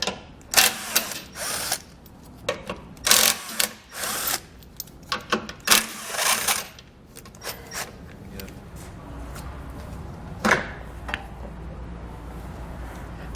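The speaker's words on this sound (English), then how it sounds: "we're going to pull out these 3 15mm bolts." On a 2015 GMC Sierra, a power tool spins out three 15mm bolts in repeated loud bursts of whirring and rattling, separated by short pauses and clinks, close up.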